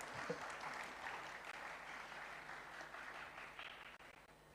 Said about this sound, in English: Let's give a round of applause and welcome.